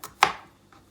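Mini cucumbers being chopped with a knife: two or three sharp, close cutting thuds, the loudest near the middle, each fading quickly into a quiet room with no voices.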